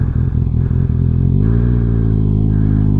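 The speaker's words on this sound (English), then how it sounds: "watch what this sounds like with the exhaust taken off" A loud, close 2024 Kawasaki ZX-6R motorcycle with its exhaust removed idles roughly, then revs up into a raw, throaty drone that holds steady.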